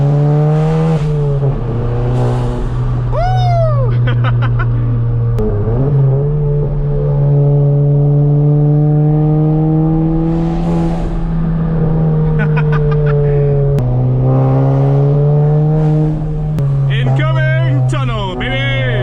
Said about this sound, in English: I'm also running a callus downpipe, the CTS callus downpipe, as well as the MBRP catback exhaust.